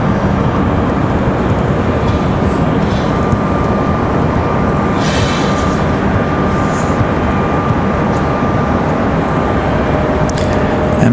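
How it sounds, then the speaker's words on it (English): A Delta Boeing 737 sits at the end of the runway at Raleigh-Durham airport, its engines giving a steady, loud, broadband roar that holds throughout without talk. "737 out at the end of the runway now"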